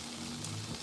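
Onions sizzle in a pan as they caramelize, a soft, steady frying crackle that is faint and brief, with no voices.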